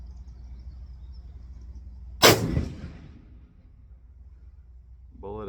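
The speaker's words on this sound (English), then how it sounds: "Shoot another one, see where that lands" A single sharp report from a custom 300 PRC rifle fired during sight-in at a range, near and loud, followed by a short ringing decay. Quiet outdoor ambience and a voice near the end.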